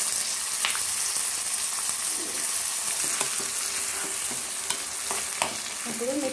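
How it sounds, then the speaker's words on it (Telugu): Chopped raw tamarind chutney with curry leaves fries in hot oil for an Andhra pickle, giving a steady close sizzle broken by occasional scrapes of stirring, with no voices. "ఇప్పుడు ఈ చట్నీ ఆయిల్లో ఒక ఫైవ్ మినిట్స్ ఉడకనిద్దాము."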